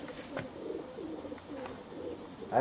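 Soft, repeated cooing of pigeons nearby, low murmuring calls running steadily through a quiet outdoor setting with no talk.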